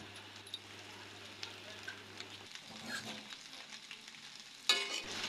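Pasta with tomato sauce and spices is stirred in a pan, a quiet sizzle under soft scraping strokes, with a sharp utensil clink near the end.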